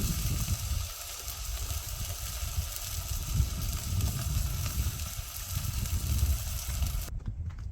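Meat frying in a hot pan outdoors gives a continuous close sizzle with low rumbling underneath, steady for several seconds before cutting off abruptly near the end, with no voices.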